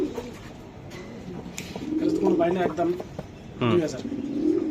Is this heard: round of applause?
no